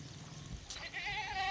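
Goats bleat faintly at a livestock pen, a short wavering cry rising near the end over quiet farmyard background, no talking.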